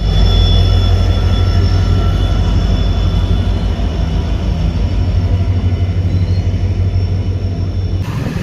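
A train rolls past the Rani railway level crossing in Assam, a loud continuous rumble and rattle holding steady for several seconds before dropping off abruptly near the end.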